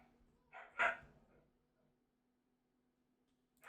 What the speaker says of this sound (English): Sorry about my loud dogs in the background.